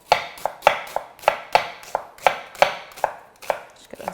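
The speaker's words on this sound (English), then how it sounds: "just gonna slice these thin" A knife slices an onion thin on a cutting board for family meal prep, a steady run of about a dozen crisp, close board strikes in an even rhythm, no voices.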